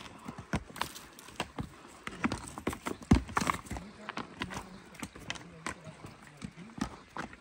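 Hooves clip-clop in an uneven rhythm close by, mixed with people talking, rustling, and a horse's snort.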